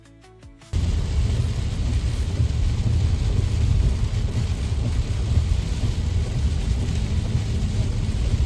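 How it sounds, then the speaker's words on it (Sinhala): Heavy rain pours steadily on a wet day before a drive to the Great Ocean Road in Australia, a dense, loud, continuous roar starting abruptly after a brief quieter moment. "අද නම් හොඳටම වැස්ස දවසක්."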